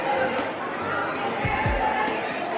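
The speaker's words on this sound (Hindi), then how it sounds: "ये है सुरसुरा धाम, जो कि काफ़ी ज़्यादा भीड़ हो रही है यहाँ पर" Dense crowd chatter at the busy Sursura Dham temple during the monsoon pilgrimage season, a constant close murmur of many voices with a few thumps and clicks mixed in.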